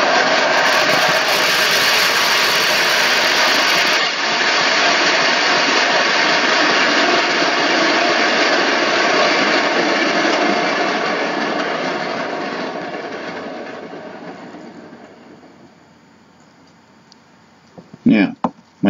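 A record turntable motor spinning a board for an acrylic spin pour, giving a loud, steady whirring roar that slowly winds down and fades, ending with a few brief knocks.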